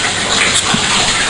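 Water gushes steadily from a newly soldered bath tap as a back bath is plumbed in, a loud continuous rush flushing flux and debris from the pipe, filling the whole moment without pause.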